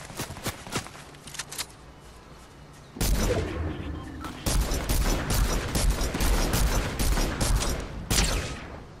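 Infantry rifle gunfire in Fortnite, with scattered single shots at first, then a loud dense burst of repeated firing and impacts that continues for several seconds.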